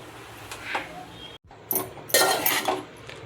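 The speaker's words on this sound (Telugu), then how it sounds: "జస్ట్ తిప్పుకోవడం స్టవ్ ఆఫ్ చేసుకుని అయితే తిప్పుకుందాం" Uggani being stirred in a pan with the stove off, heard as metal utensil scrapes and clinks against the pan. The strokes come in bursts after a brief cut, close and fairly loud.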